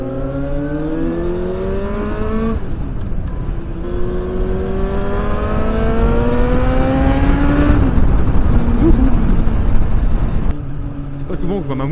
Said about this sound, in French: ce moteur est tellement souple que pas trop besoin de rétrograder, ça repart toujours